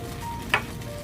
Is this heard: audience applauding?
no